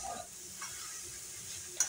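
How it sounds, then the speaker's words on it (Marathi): Vegetables with spices sautéing in a pan over medium flame, a continuous close sizzle with soft stirring scrapes and a small clink near the end. "आता हे आपण छान याला पूर्ण सर्व मसाले लागेपर्यंत आपण छान परतून घ्यायचं आहे।"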